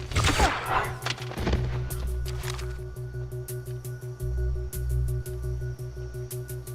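Gunfire in the video game 007: Blood Stone, an opening burst of rapid shots followed by sharp scattered reports over a steady low drone, fairly close.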